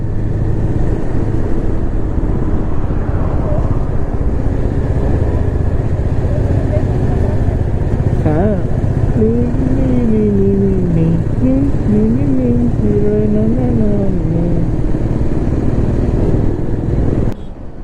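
A Yezdi Adventure motorcycle rides fast on a highway, its engine a loud, steady drone under heavy wind rush, with a rising and falling whine partway through.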